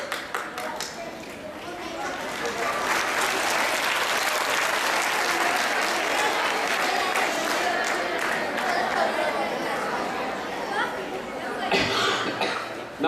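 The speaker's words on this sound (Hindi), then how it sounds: "चलो अब मैं ताली बजाता हूं।" Students in a hall applaud together, a broad sustained clapping that swells, holds for about ten seconds and then thins out, with some chatter and a cough mixed in.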